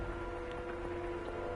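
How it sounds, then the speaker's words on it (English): Rain patters steadily and evenly throughout from the game The House in Fata Morgana, a soft continuous wash of drops with no voices. "the sharp pitter-patter of the rain"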